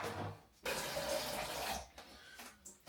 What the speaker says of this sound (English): Bit of cold water on the scales.